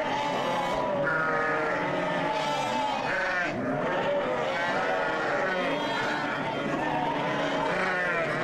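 Newborn lambs and ewes bleat continuously and loudly on a farm in Aksaray, with overlapping high and low calls crowding together throughout.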